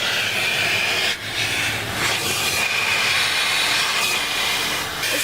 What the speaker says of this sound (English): This is quite an interesting way to vacuum.